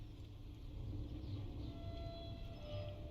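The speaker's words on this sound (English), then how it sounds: "Oh, ambient train track noise." Ambient train track noise in the Hell Let Loose map Driel, a faint steady rumble with a thin metallic whine, continuous and distant throughout.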